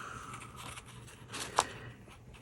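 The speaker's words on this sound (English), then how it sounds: "So now I'm going to just fussy cut the bottom part of it." Scissors snip once through paper while a Christmas penguin card is fussy cut, a single faint crisp cut in an otherwise quiet room.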